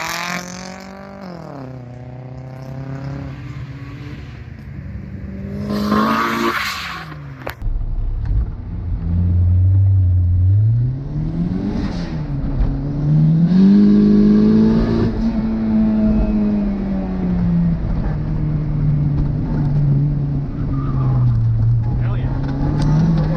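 A Honda CRX Si driving on a driftcross track: the engine revs up and down through gears, with a deep rumble building, peaking and easing back, heard close as if from onboard, fairly loud throughout.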